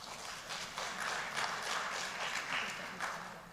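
Audience clapping at an annual town meeting, a faint, scattered patter of hands from a crowd continuing steadily throughout.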